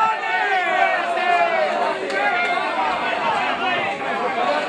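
Football crowd at a Coppa Italia semifinal, with angry fans shouting at the fence in a continuous, dense roar of overlapping voices that carries steadily throughout.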